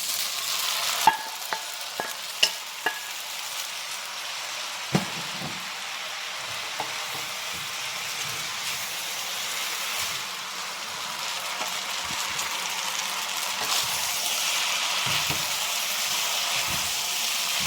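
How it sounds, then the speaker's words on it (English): Veggie lo mein ingredients sizzle steadily in a frying pot, a continuous hissing fry broken by a few sharp clinks and scrapes of stirring early on, with no one talking. "I'm gonna add my rest of the ingredients back into the pot."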